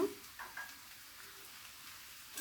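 Noodles with a fried egg sizzle in a pan over low heat, giving a faint, steady frying hiss with a few soft stirring bumps and no talking.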